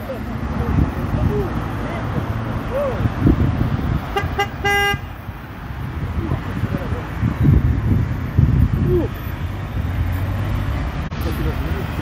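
A short car horn toot sounds amid wind-buffeted traffic noise in Cannes la Bocca, France, with a vehicle rumbling close by and voices in the background.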